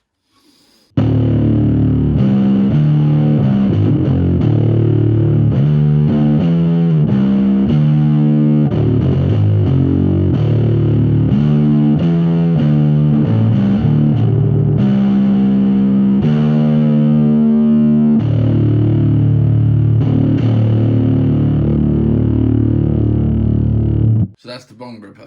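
A P bass played through a Fuzzarocious Bong Ripper distortion pedal, a thick, heavily fuzzed low riff with sustained notes and choppy rhythmic passages, loud and close, stopping abruptly at the end.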